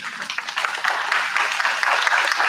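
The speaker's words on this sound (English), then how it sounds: "let's give this family a great round of applause for Jim" A memorial gathering's audience gives a sustained round of applause for a standing family, dense steady clapping of many hands at close, moderately loud level throughout.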